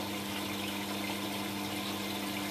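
A Hotpoint Aquarius WM12 washing machine fills with water, a continuous hissing flow with a steady tonal hum from the inlet, close and even, with no talking.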